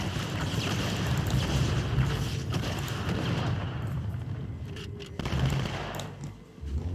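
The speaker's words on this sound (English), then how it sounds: "Who's shooting me?" Dense, continuous automatic gunfire and explosions fill a Halo 2 battle, loud and sustained throughout, with no voices over it.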